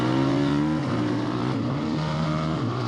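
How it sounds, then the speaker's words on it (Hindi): A cartoon scooter's engine drones steadily and loudly with a buzzing motor tone that wavers slightly, as if pulling away, with no voices over it. "वो स्कूटर लेकर जाने लगा।"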